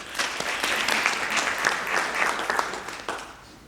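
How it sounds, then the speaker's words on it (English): An audience at a graduation ceremony in KwaZulu-Natal claps in a dense, sustained round of applause for nearly four seconds before it begins to thin out. "I think that you must give yourselves a round of applause"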